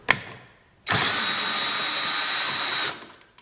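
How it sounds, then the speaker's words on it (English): A drill motor spins a wing nut remover to undo a wing nut, one loud steady whine lasting about two seconds after a single sharp click, close up and alone. "and then use the drill motor"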